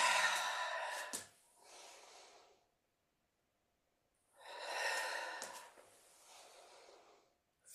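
Two long breaths during a yoga movement, each a soft airy rush followed by a quieter tail, separated by a few seconds of silence, close and fairly faint.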